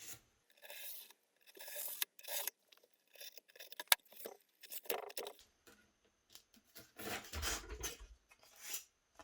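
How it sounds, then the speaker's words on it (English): A blade cuts through pink foam board in a series of short rasping, scraping strokes, close and fairly quiet, with brief pauses between cuts. "When cutting this pink foam, a brand new blade really can make a difference in how easy it is to cut."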